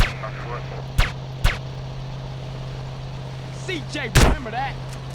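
Enemy gunfire in GTA San Andreas: two sharp, loud shots close together, then a louder blast a few seconds later, over a steady engine hum with watery splashing.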